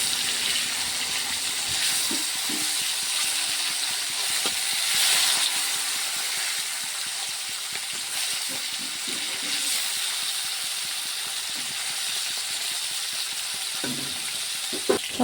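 Marinated koi fish fries lightly in oil in a pan, giving a steady, even hiss of sizzling with a few faint crackles and pops near the end. No one speaks.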